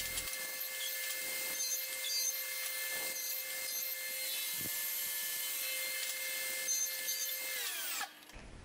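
A power saw runs steadily for about eight seconds, cutting wooden tenon rails for a panel door against a sacrificial fence on a miter gauge, then winds down near the end.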